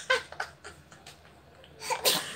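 A woman's sharp sneeze at home, followed by soft breathy sounds and then a second, louder burst near the end, close to the microphone.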